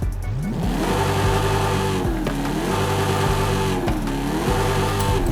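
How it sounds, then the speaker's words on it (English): A supercharged V8 in a Dodge Magnum SRT8 roars in Forza Horizon 5, revving loud and steady with rising and falling pitch as it climbs through the gears, with no talking over it. "Of course I'm gonna go with the supercharger because of course it sounds nice on the V8."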